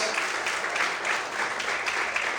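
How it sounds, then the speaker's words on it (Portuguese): A church congregation claps together at a Pentecostal-style evening service, a steady dense wash of applause that holds at an even level for a couple of seconds with no voices standing out. "Mais fortes palmas, aleluia!"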